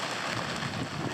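Heavy rain pours down on a boat during a sudden downpour on a sailing passage, a steady dense hiss that fills the short stretch at close range.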